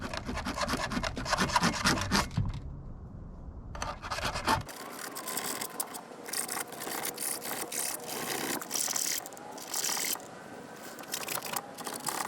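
A file rasps across the teeth of a Husqvarna chainsaw chain in quick repeated strokes, close and scratchy, with a short pause before the filing resumes.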